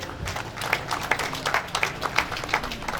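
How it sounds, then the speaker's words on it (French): An audience at a pharmacy inauguration ceremony applauds, a moderate crowd clapping with distinct individual claps rising out of a soft murmur, steady and mid-distance. "Nous pouvons applaudir."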